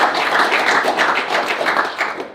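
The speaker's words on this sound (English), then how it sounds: "deserves a round of applause" Audience applause in a room full of people, a dense, even burst of many hands clapping close by that fades out at the end.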